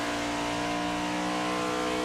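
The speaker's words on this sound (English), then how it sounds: "But listen to the car on the exit." A race car in a simulated Darlington Raceway race drives out of a corner, a steady loud engine drone with layered buzzing harmonics held throughout, no speech.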